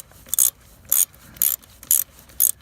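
An old ratchet wrench from the 1970s, handed down from a grandfather, gives five short bursts of dry clicking spaced about half a second apart. The bursts are close and clear, and no one speaks.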